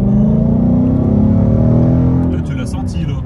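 2018 Ford Mustang GT V8 engine revving, a loud, deep, throaty roar held close for about three seconds, easing slightly toward the end under people speaking.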